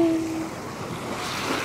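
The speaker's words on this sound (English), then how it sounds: "I'm directly at the ocean," Pacific Ocean surf heard from a boat near Hiroshima among small islands, a steady wash of waves and rushing water with wind noise buffeting the microphone, fairly close and continuous, no talk.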